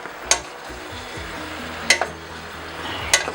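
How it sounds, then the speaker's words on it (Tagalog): Beef pinapaitan being stirred in a pot after tamarind soup base mix is added, with a steady sizzling simmer and three sharp scraping clinks of the utensil against the pot spaced about a second and a half apart. "Halo-haloin na yan."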